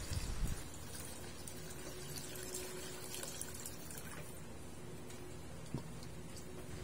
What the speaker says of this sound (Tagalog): tsaka na tayo maglalagay ng tubig